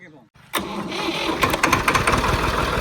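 A tractor engine cranks and catches after a brief quiet moment, then runs on in a loud, close, chugging clatter with uneven knocks, while people talk nearby.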